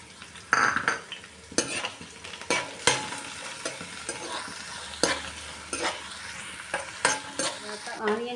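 Onions, green chillies and curry leaves frying in hot oil in a wide pan for an Andhra fish curry, a steady close sizzle broken by repeated scraping stirs of a metal spoon against the pan.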